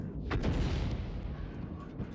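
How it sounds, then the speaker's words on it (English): Booming artillery fire in the tank battle game World of Tanks, a continuous low rumbling barrage with a sharper blast early on, heard fairly faint and distant with no talking. "Can we have a look to see if there's any artillery fire?"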